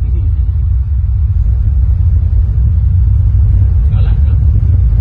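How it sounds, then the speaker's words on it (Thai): An airplane sound effect from a film plays through a large event sound system, a loud, steady low rumble that fills the whole stretch with no clear breaks. "เสียงที่ได้ยินอยู่นี่ว่าเป็นเสียงเครื่องบินด้วยนี"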